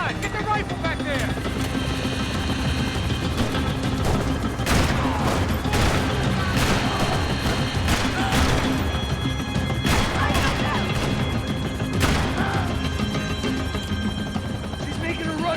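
Rapid bursts of gunfire hit a helicopter in the video game Max Payne 3, heard over the loud, steady thrum of its rotor. Voices shout over the sharp cracks and impacts.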